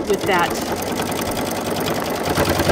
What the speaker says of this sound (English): It's nice being able to sew with a machine that you could be confident that you can sew over bulky stuff